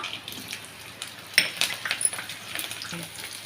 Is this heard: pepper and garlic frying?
yes